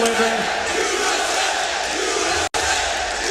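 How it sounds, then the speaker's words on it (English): A large esports arena crowd at the Dota 2 International roars and chants "Team USA" in unison, loud and sustained, with a brief cut near the end before the chanting resumes. "the crowd chanting Team USA"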